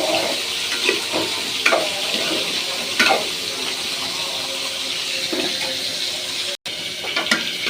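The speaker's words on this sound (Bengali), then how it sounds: "এদিকে টমেটোগুলো ভাজি দিয়ে দিয়েছি" Tomatoes frying in a pan for a fish curry with mustard paste, giving a steady broadband sizzle with scattered stirring scrapes and clinks throughout, one brief dropout near the end, and no talking.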